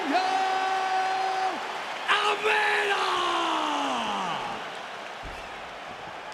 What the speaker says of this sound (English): this crowd is going wild